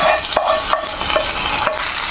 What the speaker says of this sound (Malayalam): കടുക് വറുത്തത് ഇട്ടേക്കാം കടുക് വറുത്തത് റെഡിയായി അപ്പൊ കടുക് വറുത്തത് ഇട്ട്